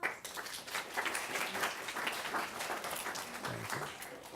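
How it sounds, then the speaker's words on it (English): An audience bursts into applause to welcome a speaker at a workshop in the Bronx, a brief, dense round of clapping lasting a few seconds, close and fairly loud with no talk over it. "round of applause"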